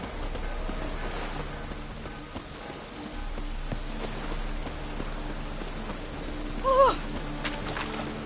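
Steady rain hiss falls evenly throughout in The Witcher 3 video game, with a brief faint higher sound near the end.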